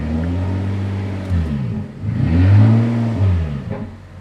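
A Lotus Evora S engine revs up and accelerates loudly nearby, pitch rising and falling through gear changes, with no voices.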